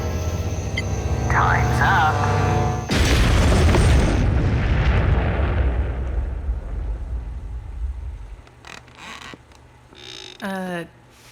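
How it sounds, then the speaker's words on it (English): A loud, close explosion boom bursts out and rolls into a long, decaying rumble, with voices speaking before it and afterward. "I heard the bomb go off."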